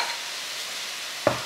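A Sri Lankan-style pasta mixed with tinned fish sizzles steadily in a pan, ending in one short, sharp scrape as the mixture is stirred.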